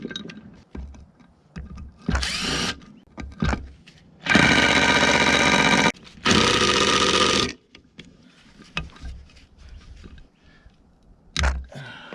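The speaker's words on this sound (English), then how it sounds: "ordinarily I don't like using power tools, but we're gonna give it a shot" Loud bursts of an impact wrench buzzing in short and long runs while removing bolts from a 1997 Toyota Tacoma, with clanks and handling noises between the bursts.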